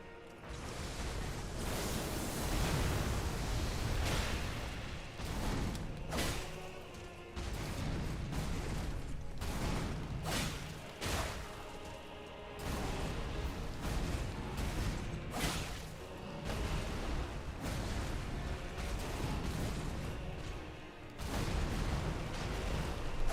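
A boss in Elden Ring unleashes an explosion attack, with repeated heavy booming blasts and whooshing bursts rumbling loudly in waves over a dense, continuous roar of battle.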